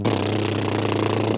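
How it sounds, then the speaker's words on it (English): A short buzzing lip trill, a steady fluttering vibration of the lips held at one pitch for about a second before stopping. "A lip trill sounds like this."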